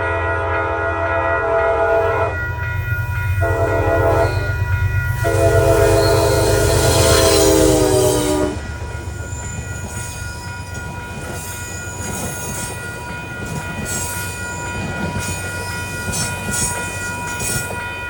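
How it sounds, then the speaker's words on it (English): Metro-North Grand Central to Poughkeepsie express led by a Conrail heritage unit passing at Peekskill, loud repeated horn blasts over a rumbling engine, then steady wheel clatter as the cars roll by. "Grand Central Poughkeepsie Express with the 201 Conrail"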